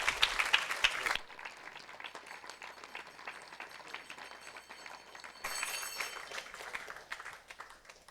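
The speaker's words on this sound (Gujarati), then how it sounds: "જોરદાર તાળીઓથી મહારાજશ્રીના આગમનને આપણે વધાવીશું." Crowd applause welcoming a guru's arrival at a Swaminarayan satsang gathering in Palatine, Chicago, loud at first, then softening into steady sustained clapping that swells again near the end.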